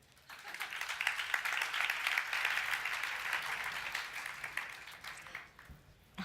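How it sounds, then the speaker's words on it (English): Conference audience applauding at a talk on the new internet, a dense sustained wash of clapping that swells in after a quiet start, holds steady for several seconds, then tapers off near the end. "and applause again,"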